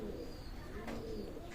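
A KTM baby breed pigeon coos softly in a short, low, murmuring call, faint and close against a quiet background.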